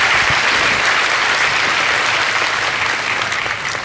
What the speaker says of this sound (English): give a real hearty applause both for our president and for the family